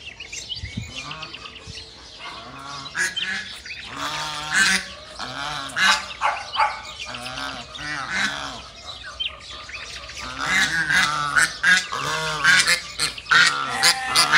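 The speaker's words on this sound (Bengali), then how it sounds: "যে পুরো ফকফকে সাদা হয়ে আছে হাঁসগুলো, সাদা হাঁস দেখতে সুন্দরই লাগে।" White domestic ducks on a farm honk and quack repeatedly in overlapping bursts, fairly close and loud, with scattered bird chirps in the background and no talk.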